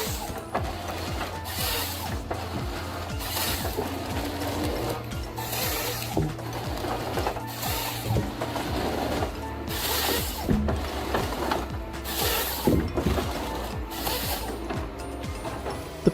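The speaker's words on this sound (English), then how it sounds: "It can clean branches and cut these trees with ease." A firewood processor's cutter head works through trees, stripping branches and cutting, in a clattering mechanical run of repeated bursts and knocks over a low machine drone.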